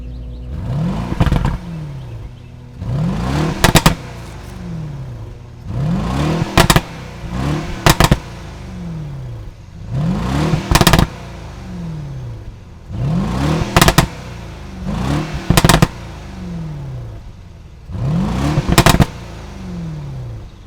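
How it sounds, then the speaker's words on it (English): Mercedes-Benz S560 Cabriolet with a sport exhaust system, revved repeatedly from idle in sharp bursts, each rising and falling with loud crackles, about seven times in a regular rhythm, up close. "let's hear how this engine sounds connected to a sport exhaust system"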